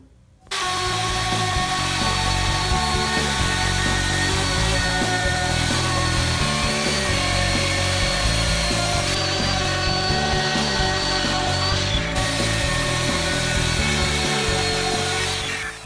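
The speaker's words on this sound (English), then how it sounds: "I have the bearing and the depth of the router bit set so that it cuts a 3/8 inch by 3/8 inch rabbet on the edge of the board" A router with a bearing-guided bit cuts a 3/8 by 3/8 inch rabbet along the edge of a wooden board. Its loud, steady whine runs unbroken for about fifteen seconds, with no other sound over it.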